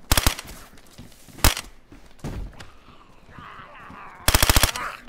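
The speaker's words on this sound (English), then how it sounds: "We're not shooting you, we're shooting zombies." Rapid automatic gunfire in a zombie shooter video game, loud bursts of fast shots at the start and end with a single heavy shot between, plus quieter game noise in the gaps.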